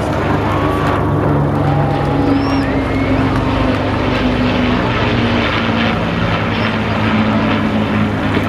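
Propeller aircraft of a memorial flight passing over a seaside airshow at Rhyl, a loud, steady engine drone and throbbing prop hum filling the air, with no talk.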